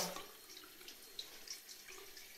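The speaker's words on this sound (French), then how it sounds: "je vous laisse la faire couler un petit peu avant" Lukewarm water runs from a tap in a steady, soft trickle with faint splashes into a sink, quiet and close, with no voices.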